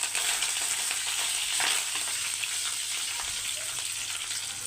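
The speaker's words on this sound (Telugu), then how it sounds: "ఉల్లిపాయలు ఫ్రై అయినా ఇందులోకి కరివేపాకు వేసుకున్నామండి" Curry leaves hit hot oil with fried onions for sambar, a dense, steady crackling sizzle with a brief louder burst early on, close and moderately quiet, no voices.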